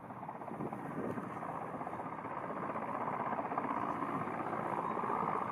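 Firefighting helicopter working over burning wheat fields, its steady rotor and engine drone continuous and close, slowly growing louder across the clip with no talk.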